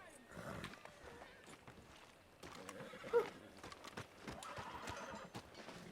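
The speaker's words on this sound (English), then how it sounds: "Jeez, that's a huge horse." A huge horse in the Red Dead Redemption 2 video game whinnies and snorts amid quiet hoof clip-clops, the sounds fairly faint and scattered across the moment, with a brief louder snort near the middle.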